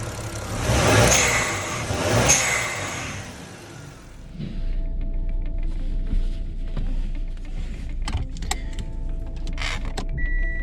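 Toyota Aristo with a 2JZ engine and an HKS SSQV blow-off valve: two loud, sharp hissing bursts close together, then the engine settles into a steady idle with a few faint clicks.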